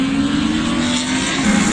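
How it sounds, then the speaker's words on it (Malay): Motorcycle race engines drone steadily at a car meet gathering, a continuous high whine that is loud and sustained throughout the short stretch with no talk over it. "Dengar bunyi bising sana, sedang race motor tu."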